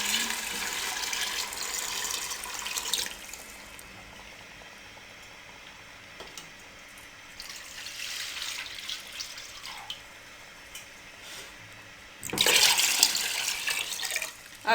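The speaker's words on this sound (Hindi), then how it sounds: "पानी इसमें हम तकरीबन 2 लीटर पानी इसमें हम डाल देंगे" About two litres of water poured into a pot of mixed lentils, heard as bursts of rushing, splashing flow at the start, in the middle and near the end, with quieter dripping between.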